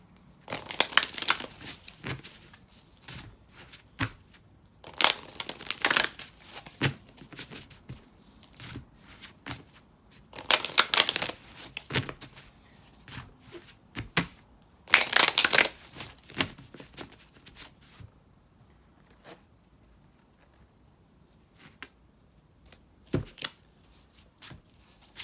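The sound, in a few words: shuffling Moonology oracle card deck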